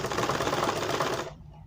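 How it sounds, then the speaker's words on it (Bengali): A sewing machine stitches around a blouse neckline in a fast, steady whirring run that stops abruptly near the end, leaving quiet room tone. "দেখেন এইভাবে সেলাই করে দেবেন"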